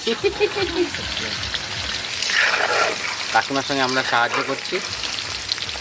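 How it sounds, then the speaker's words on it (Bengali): Potatoes frying in hot oil in a pan, a continuous close sizzle with stirring, while people chat over the cooking. "আলু ভাজা হয়ে গেলো দাদা তো"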